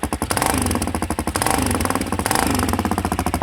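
DM 200 motorcycle with its exhaust removed, engine running loud and close with a rapid, rough clattering firing pulse and a couple of brief revs rising and falling.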